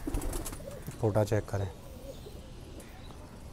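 Prized pigeons of a Yarkani eye breed cooing in a short run of low, throaty pulses close by, with someone talking over and around them.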